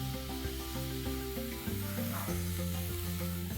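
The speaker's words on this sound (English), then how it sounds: "You have to saute these onions to a beautiful golden brown color." Finely chopped onions sautéing in a pan for paneer masala, a soft steady sizzle running under louder background music.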